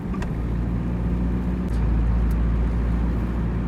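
A Ford Fiesta or Hyundai Getz car engine rumbles loudly up close, its low roar rising and swelling midway through as it is revved, with no voices.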